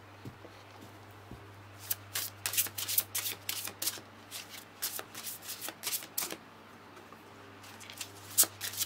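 Tarot cards shuffled by hand for a reading, with repeated crisp riffling bursts in an irregular rhythm over a steady low hum, close and fairly loud, with no talk.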